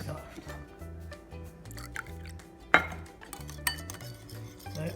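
Milk is poured into a scone mixture, and faint drips and liquid splashes mix with light clinks of a bowl, while a low voice is heard in the background.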